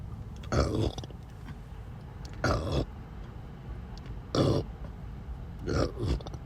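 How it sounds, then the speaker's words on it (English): A man lets out four separate deep burps, spaced a second or two apart, close and fairly loud against a quiet room background. "Apparently interdimensional travel makes you burp and fart and other things, so pardon my burping."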